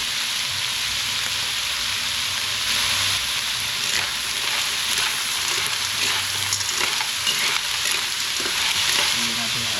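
Food frying in a pan with pepper and seasoning while being stirred, a loud, dense, steady sizzle with faint scraping underneath, close up and uninterrupted, no voices.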